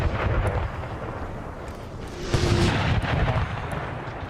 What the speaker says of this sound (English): That dude getting taken out, taking a cannonball to the face.